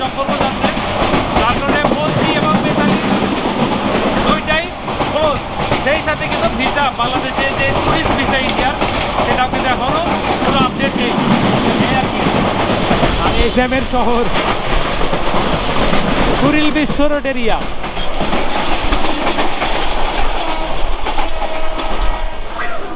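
Inside the Kurigram Express from Dhaka to Rangpur, the carriage rumbles and clatters loudly and continuously, with a person talking over the rail noise.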